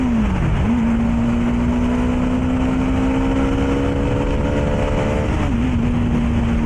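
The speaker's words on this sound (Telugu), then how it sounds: "ఇది అప్పుడే 120 వరకు వెళ్ళిపోయింది, జస్ట్ ఫ్రాక్షన్ ఆఫ్ సెకండ్స్లో. డామినర్ 400 ఇది." A Bajaj Dominar 400 motorcycle accelerates hard, its engine note rising in a steady loud drone as it climbs through speed, with a brief dip at a gear change near the end, no talk.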